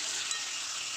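Potatoes sautéing in spice masala in a pan give a steady, soft sizzle with a faint clink, continuous through a short moment.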